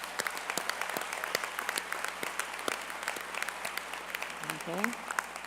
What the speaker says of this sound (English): And a big applause for all of them.